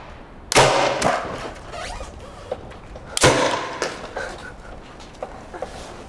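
A homemade potato cannon fires twice outdoors, each a sharp, loud bang several seconds apart, with scattered thumps and quiet movement noise between the shots.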